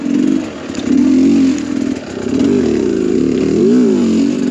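A dirt motorcycle fitted with a Lectron Billetron carburetor revs and accelerates hard in second gear, its engine note rising and falling in loud, close surges with a rough, buzzy tone.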